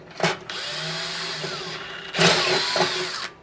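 A power drill boring a pilot hole during furnace repair runs in two close, loud, steady whines with a brief stop between them and sharp starts and stops at each end.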